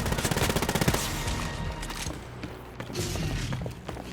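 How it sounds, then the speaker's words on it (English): Rapid automatic gunfire in the game Wolfenstein: Youngblood, a fast rhythmic burst of close shots that gives way to thuds, mechanical clanks and scattered impacts. "this is the part where we need to pump, you know, dozens of bullets into him"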